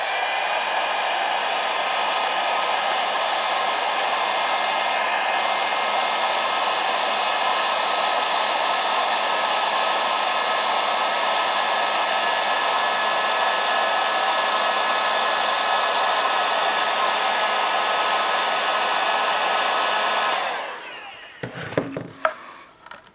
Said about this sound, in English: Grab yourself a heat gun and just heat that up a little bit.